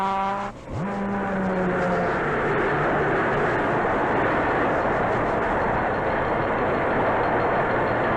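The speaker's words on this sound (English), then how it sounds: "closes the throttle to slow down the train" A 1940 passenger train rolls steadily along the rails, a loud continuous rumble and rattle of wheels, with a brief tonal horn-like sweep near the start before the broad running noise carries on alone.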